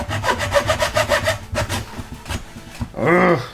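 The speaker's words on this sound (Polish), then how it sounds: "Może brzeszczot będzie lepszy" Rapid, rhythmic back-and-forth strokes of a hacksaw blade rasp close by, then pause before a brief grinding scrape.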